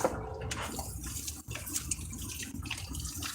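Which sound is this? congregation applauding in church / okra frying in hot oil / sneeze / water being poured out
water being poured out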